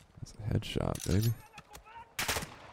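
Sharp gunshots ring out in Call of Duty DMZ, a few loud reports mixed with a voice talking close by.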